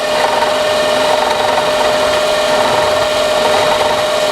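Steady, loud abrasive rasping of sanding or filing on wood while fairing out a shallow scribed area, a continuous dense scrubbing that runs unbroken and close with no voices.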